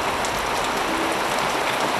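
Heavy rain pours down in a steady, dense hiss during a storm with intense downpours, with no voices and no letup across the whole stretch.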